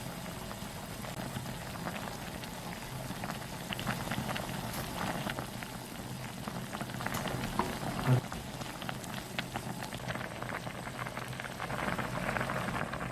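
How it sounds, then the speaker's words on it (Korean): Spam budae jjigae stew with rice-water broth and seasoning paste boiling in a pot, a steady low bubbling and crackling wash with scattered pops, close and moderately loud, no voices. "부대찌개가 끓어오르면 양념장을 잘 섞어주세요."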